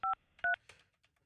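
Two pairs of touch-tone telephone keypad beeps as a number is dialed for a call into a morning radio show, each tone short, loud and clean, followed by a faint mumbled voice.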